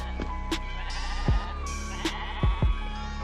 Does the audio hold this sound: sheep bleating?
yes